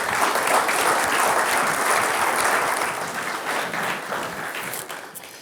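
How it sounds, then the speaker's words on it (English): A college audience gives a loud, full round of applause, dense and close for several seconds before it gradually tapers off toward the end. "So let's give them a round of applause,"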